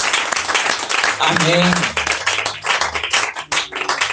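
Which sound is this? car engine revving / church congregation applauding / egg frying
church congregation applauding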